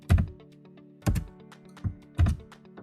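Code being typed on a computer keyboard: a few short clusters of clattering keystrokes with pauses between, close and clear with no talk.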